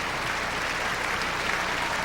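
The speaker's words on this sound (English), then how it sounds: "the applause continues" Sustained applause from a large concert hall audience after a live Mahler symphony performance fills the space, a dense, even wash of clapping with no pauses.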